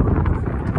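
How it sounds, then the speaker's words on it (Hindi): A strong, cold mountain wind roars on the road toward Leh in Ladakh, a loud, steady rumble buffeting the microphone with no pauses and no voices. "हवा इतनी तेज चल रही है, ठंडी ठंडी मस्त हवा चल रही है"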